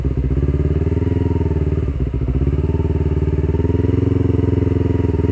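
A 2019 Yamaha New R25 sport motorcycle idles with a steady, loud low-pitched engine drone while being shifted into gear, a brief dip and clunk partway through before the even idle resumes.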